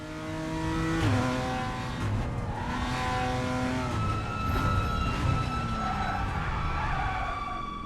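A race car engine in RaceRoom Racing Experience drones loud and steady for the whole stretch, its pitch climbing and dipping as the car brakes and accelerates while stuck in one gear.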